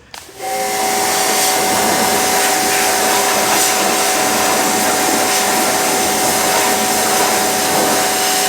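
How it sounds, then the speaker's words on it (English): A spinning scuff ball scours and polishes a Jeep Grand Cherokee wheel during a restoration, starting suddenly and holding a loud, steady whirring roar with a sustained tonal whine throughout. "I'm gonna scuff ball this entire thing and I'll show you the final product."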